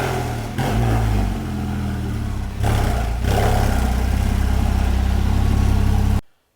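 A Porsche Cayman S 987.1 Sport Chrono with an aftermarket exhaust idles and revs up close, giving a hollow, airy rushing exhaust note with a couple of throttle blips before it cuts off.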